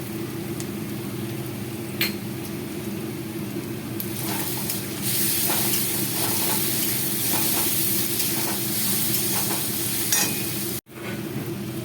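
Garlic and chilli hit a pan of reddish fried onions and sizzle steadily for about twelve seconds, with occasional stirring scrapes and bursts of hiss near the start and middle before the sound cuts out abruptly near the end.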